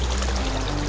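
A mountain water stream on a forest trek to Panchalingala Kona flows in a steady, close rush of broadband water noise, alone and unbroken for a moment.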